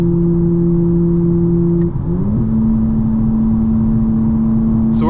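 Steady tire road noise inside a 2025 BMW M4 Competition xDrive on ultra-performance summer tires with the suspension in its firmest setting: a constant low cabin drone with a humming tonal whine that briefly wavers and shifts pitch midway.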